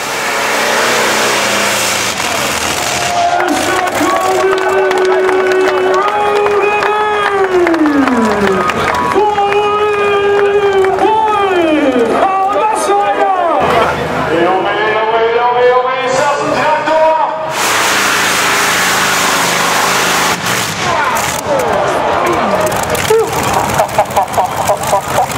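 Roude Leiw jun., a tractor-pulling machine with a radial aircraft engine, roaring loudly at full power with rising and falling engine pitch, over a cheering crowd and an excited commentator speaking throughout.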